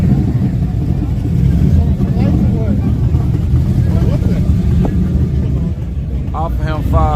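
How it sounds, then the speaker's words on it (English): An old Ford engine roars loudly and steadily at a drag racing track, a heavy continuous rumble with wind buffeting, while voices talk faintly in the background. "That old Ford motor."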